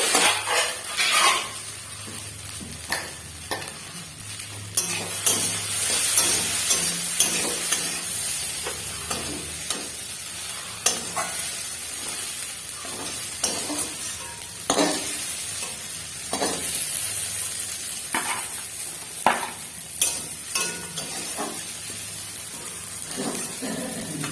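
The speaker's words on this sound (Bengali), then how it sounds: "এবার এটাকে সুন্দর করে ফ্রাই করে নেবো।" Food fries in a pan on a home kitchen stove while a utensil stirs and scrapes it, a steady sizzle under repeated clinks and scrapes throughout, with no talking.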